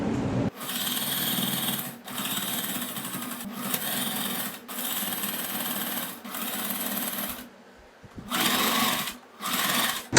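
A sewing machine top-stitches along the neckline edge of a kurti in loud, rapid, buzzing runs. The runs start and stop several times, with short pauses between them.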